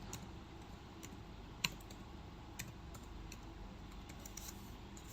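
Sparse, faint keystrokes on a computer keyboard while month names are typed into an Excel sheet, with soft scattered clicks and one sharper tap against quiet room hiss.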